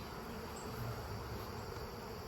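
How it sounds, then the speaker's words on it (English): A dense, continuous hum of many bees buzzing close by during package bee installation, steady and enveloping with no voices. "I got bees all over me."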